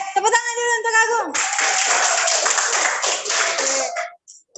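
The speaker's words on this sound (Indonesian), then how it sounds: "Oke, tepuk tangan dulu untuk Agung." A brief voice opens before a classroom of students breaks into lively clapping for a classmate, a close, dense patter lasting about three seconds before it stops abruptly.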